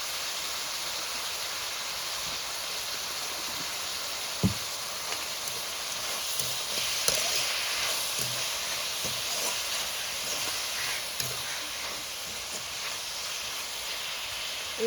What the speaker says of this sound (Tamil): இது நல்லா தக்காளி தொக்கு மாதிரி நல்லா வதங்கி வரணும்.